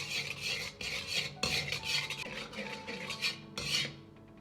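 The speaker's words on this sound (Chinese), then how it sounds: "锅中留少许的油，下入几粒的冰糖，先来炒个糖色" Rock sugar is stirred in a little oil in a wok to make caramel, with close, rhythmic scraping and rasping strokes of a utensil against metal, repeating about every half second with no talking.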